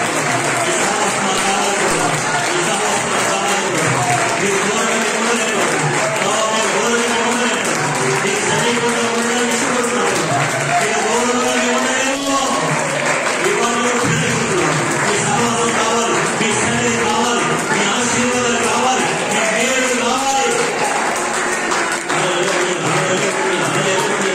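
Loud, sustained clapping from a church congregation during a Sunday service, a dense steady wash of many hands that continues throughout with voices mixed in underneath.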